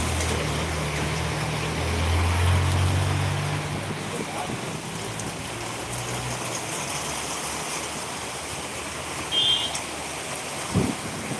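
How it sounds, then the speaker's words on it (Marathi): A downpour of heavy monsoon rain in Jevali roars as a constant wash of noise, with a low rumble rising briefly near the start and a few faint sounds surfacing late in the clip. "पावसाची तीव्रता बघू शकतो"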